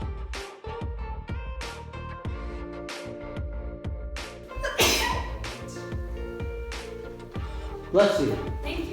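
A single sharp sneeze bursts out midway through, up close indoors in an off-grid cabin under interior construction, heard over steady rhythmic background music with a thumping beat.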